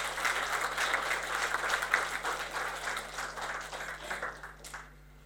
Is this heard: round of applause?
yes